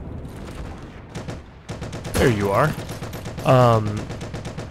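Gunfire in Heroes & Generals: rapid bursts of close, loud shots crack through the scene, with a few sharp single reports, while someone talks over the shooting.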